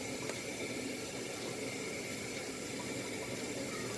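Water trickles and drains from a pan into a saucepan while cooking brick pastry sheets, a faint, steady, continuous splashing with no voices.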